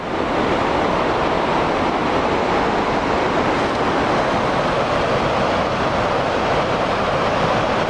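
A steady, powerful rush of Sandstone Falls in the New River Gorge roars without pause, broad and dense like a large cascade heard from fairly close.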